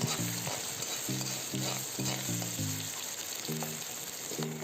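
Onions, ginger and garlic fry in a wok with a soft, even sizzle, punctuated by a steady series of spatula scrapes against the pan.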